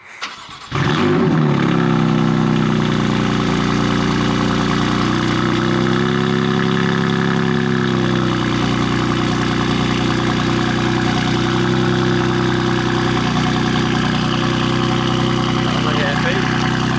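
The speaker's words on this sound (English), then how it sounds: "here's a little cold start for you guys" A BMW 335i engine catches on a cold start and settles into a loud, steady idle close by, with a brief crank at the outset and a constant droning hum that holds to the end.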